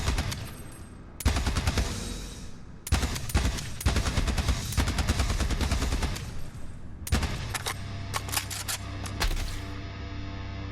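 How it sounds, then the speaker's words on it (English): A Borderlands 3 gun fires loud, dense bursts, switching between sustained full-auto streams and short five-round bursts, with rapid crackling shots, brief gaps, and a busy game soundtrack beneath. "So it switches between full auto and a 5 burst fire, but listen to what goes on in the background."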